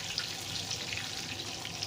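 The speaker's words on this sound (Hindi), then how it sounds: "इनको करेंगे हल्का सा फ्राई" Chana dal tempering with green chillies frying lightly in a hot pan gives a soft, steady hiss and crackle, faint and continuous with no talk.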